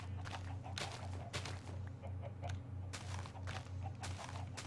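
Chickens clucking in the Minecraft mod The Crafting Dead, repeated bursts of clucks over a steady low hum, fairly faint and with no talk.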